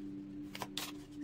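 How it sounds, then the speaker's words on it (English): Flaming Roses Lover's Oracle cards being shuffled, a few quiet soft riffling swishes of card stock, close and faint over a steady low hum. "I'm being called to shuffle."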